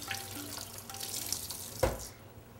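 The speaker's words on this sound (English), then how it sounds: "let's give my hands a quick rinse" Water from a kitchen tap runs briefly as hands are rinsed, a soft, faint splashing stream with a small clunk near the end before it cuts off.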